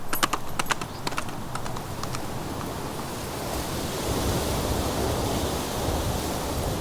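Horse hooves clip-clop in a quick, close rhythm for a couple of seconds as Tam O'Shanter rides out, then fade beneath a rising, steady roar of stormy wind and surf-like noise.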